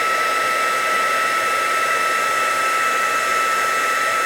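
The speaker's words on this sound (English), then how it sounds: "I'm going to bring in that heat tool, and I'm going to heat it and melt that powder." A heat embossing tool blows a steady, loud, hair-dryer-like hiss close by as it melts embossing powder on designer series paper, constant with no variation and no talking.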